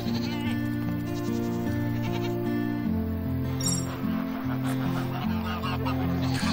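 Geese on a farm in the Farm Manager 2018 game honk repeatedly, with overlapping nasal calls and bleat-like cries that carry on steadily and fairly close.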